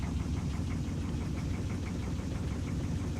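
Deep, even rumble of an idling diesel engine on a fishing boat in a Barents Sea fishing game, a continuous close drone with a soft rhythmic knock throughout and no talk.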